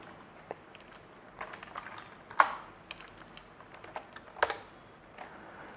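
Keyboard typing while C++ code is written, with scattered key presses and a few louder clacks near 2.5 and 4.5 seconds, close and clear with no talk over it.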